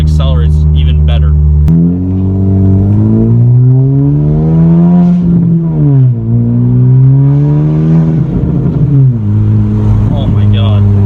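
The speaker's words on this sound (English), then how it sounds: "So that was just the second gear pull in sport mode." A tastefully modified 2018 Honda Civic Si accelerates hard through a second gear pull in sport mode. The loud engine drone rises steadily, dips briefly on the shift, then climbs again, heard up close from inside the car.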